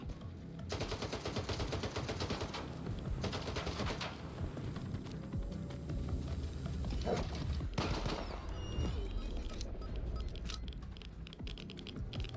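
Gunfire in the video game S.T.A.L.K.E.R. 2: rapid automatic bursts crackle in dense volleys, broken by short pauses, with a constant background mix under the shooting.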